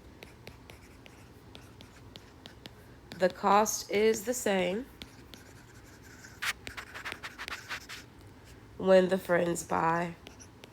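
Scratchy strokes of writing on paper during a maths lesson on solving equations, heard in short bursts between stretches of a teacher talking nearby.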